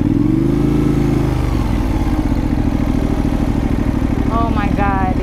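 A motorcycle engine runs steadily and loudly throughout a ride on a busy day, with a low rumbling drone that stays constant; a voice talks over it near the end.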